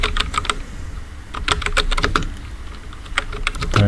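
Rapid keystrokes on a computer keyboard as a search term is typed into a search bar, a close, steady run of clicky taps with brief pauses and a heavier key press near the end.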